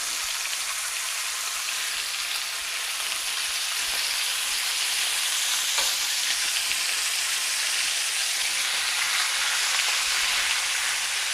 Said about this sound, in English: this oil is hot and will splatter some